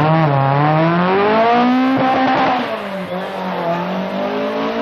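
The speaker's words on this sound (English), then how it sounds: "Mikkola is using the four-wheel drive Quattro to good effect, and by stage 5 has extended his lead slightly" An Audi Quattro four-wheel-drive rally car at the 1981 1000 Lakes Rally in Finland drones loudly at high revs on a forest stage, its engine pitch rising and falling with gear changes, close and dominant throughout.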